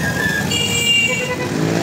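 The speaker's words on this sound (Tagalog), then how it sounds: "Ayan, marami pong sasakyan dito." Busy road traffic of many cars and motorcycles crawling through a town fiesta in Antipolo, a steady close rumble of engines with a few brief higher tones over it and no clear talk.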